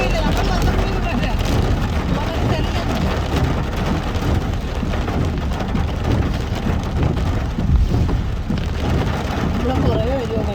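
Heavy rain pours while a car drives the winding Thamarassery ghat road toward Wayanad, a dense continuous hiss and drumming on the vehicle filling the whole stretch, with muffled voices underneath.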